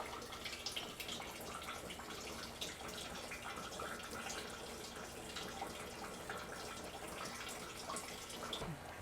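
Water running steadily out of a rain barrel kit's diversion tube, a continuous broadband splashing trickle, moderately close and unbroken, with no talk over it.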